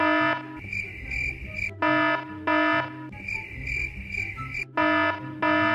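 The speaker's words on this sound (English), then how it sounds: "I don't wake up until like 101 alarms ring for 101 hours" Several morning alarms ringing at once, a loud harsh electronic buzzing in repeated bursts of roughly a second, close and alone with no talking.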